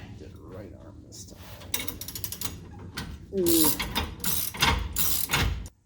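A ratcheting wrench tightens hardware on a truck under repair, producing rapid bursts of close, loud clicking that grow louder and denser toward the end, with a voice speaking briefly between strokes.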